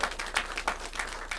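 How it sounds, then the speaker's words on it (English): An audience at a fringe comedy show applauds, a fairly soft, steady patter of clapping with a few louder claps surfacing. "Give yourselves a round of applause."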